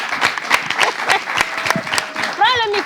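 An audience claps during a New Year's Day live show, with loud, close hand claps standing out over a wider crowd applause. A voice and a whistle-like tone come in near the end.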